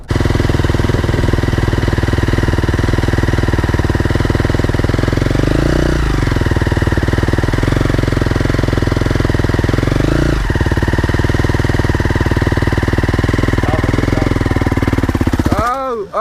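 Dirt bike engine running loud and close while a learner rider slips the clutch, a sustained droning rumble that dips and surges in pitch a couple of times before a final rev at the end.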